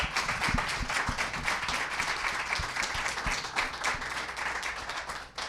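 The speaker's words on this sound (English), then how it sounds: "Let's give our panelists a big round of applause." Audience applause for the panelists at a Conscious Capitalism Indy panel discussion, a steady, dense roomful of clapping that carries evenly through the whole stretch at moderate loudness.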